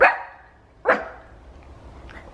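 Puppies barking indoors after a knock at the door, two loud close barks about a second apart, the second shorter, followed by quiet room tone.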